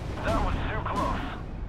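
Artillery fire from the WWII strategy game Steel Division Normandy 44, with 101st Airborne Division forces in play: two heavy booming blasts about a second apart over a dense rumbling battle bed, loud and close, with radio-style voices talking in the background.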